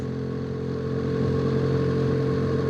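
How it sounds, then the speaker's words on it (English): A BMW GS motorcycle engine with Black Widow aftermarket exhaust headers runs with a deep, steady, throaty drone that swells slightly louder partway through. "when you're on lower revs and you try to accelerate, it does bring up a deeper sound"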